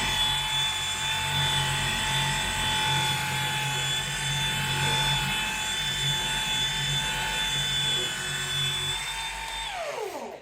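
A machine polisher runs on its lowest speed against car paint, a steady close whine with a low hum beneath it. It winds down at the very end.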